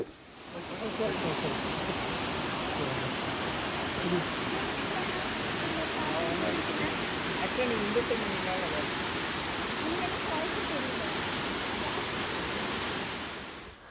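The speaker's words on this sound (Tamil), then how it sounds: "பட் இந்த வாட்டர் ஃபால்ஸ் எங்கேருந்து வருது" Gollinger waterfall roars as a steady, loud broadband rush of falling water that fills the whole stretch, swelling in at the start and fading at the end.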